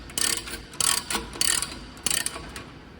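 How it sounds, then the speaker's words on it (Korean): Someone tightens an anti-loosening nut on a GMC 500A 60 kg HD spring balancer, producing close, loud bursts of ratcheting clicks in three or four quick spurts separated by brief pauses, with no voices. "그리고 풀림 방지 너트를 조이고, 그리고 뒤에 플리막 너트를"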